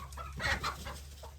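Chickens cluck close by in a coop while being merged with another flock, with a few short, rising clucks over a steady low hum.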